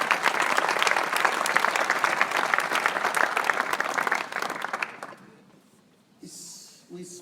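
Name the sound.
audience applause at a scouting conference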